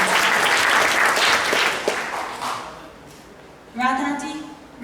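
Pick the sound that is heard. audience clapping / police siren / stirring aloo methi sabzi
audience clapping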